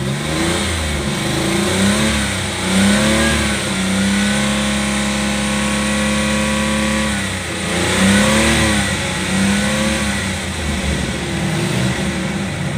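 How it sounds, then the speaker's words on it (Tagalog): The engine of a Daihatsu Hijet multicab pickup, newly converted to a carburetor, revs repeatedly with loud close rising and falling surges over a steady idle, and nobody speaks. "kahit ginamitan na natin ng power wash, mandar pa rin yung makina."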